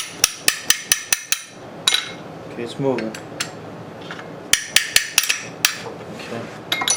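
Sharp metallic hammer blows strike a tight base bolt on a rare Briggs & Stratton NR6 engine under restoration, a quick series of close, loud clanks followed by a few scattered knocks and a later burst, with brief talk between.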